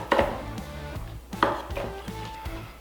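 A knife slices through cooked medium-rare steaks on a cutting board, giving a few distinct cuts and taps against the board with light clatter in between, close and fairly quiet.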